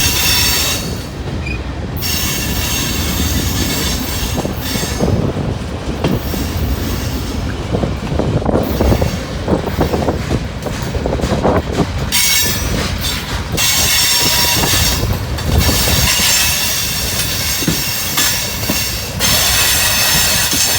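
A loud train rolls past on the old B&O tracks, with continuous rumbling, clattering wheels and high squealing throughout.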